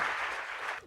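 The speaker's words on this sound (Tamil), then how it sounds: "நல்ல கைத்தட்டி பாராட்டி அன்போடு" An audience claps to welcome a college professor coming up to speak, a dense burst of many hands that stays loud and even for most of a second and then quickly dies away.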